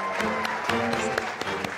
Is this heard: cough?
no